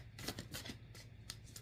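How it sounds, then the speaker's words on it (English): Oracle cards being shuffled by hand: a quick run of crisp riffling and flicking bursts, close and moderately loud, with brief gaps between the shuffles and no talking. "Shuffle again"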